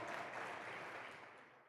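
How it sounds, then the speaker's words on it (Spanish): A congregation applauds the Lord during a Bible seminar sermon, a dense, steady wash of clapping that holds level and then tapers slightly toward the end. "dele ese aplauso al Señor"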